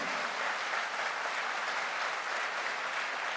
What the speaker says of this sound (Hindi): जबरदस्त तालियां बजा दीजिए, हाथ ऊपर करके तालियां बजा दीजिए।